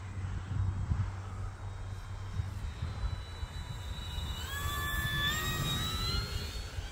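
An E-flite F4U-4 Corsair 1.2 m electric RC model airplane on a 4S battery flies outdoors. Its faint, distant motor hum rises into a thin pitched whine as it picks up speed with the wind, with no talking.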